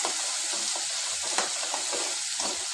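Raw ground masala paste sautés in a pan, giving a steady broadband sizzle with occasional faint stirring scrapes.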